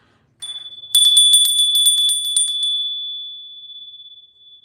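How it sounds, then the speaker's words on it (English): Small hand bell rings out bright and close: a short tap, then a rapid series of clear metallic strikes over about two seconds, its pure tone lingering and slowly fading afterward. "I am going to ring that bell."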